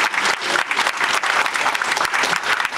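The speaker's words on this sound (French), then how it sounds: "Donc, on peut les applaudir." Audience applause fills a municipal New Year's greetings ceremony in Condat-sur-Vienne, a dense, steady clapping from many hands that holds loud and even throughout, with no voices above it.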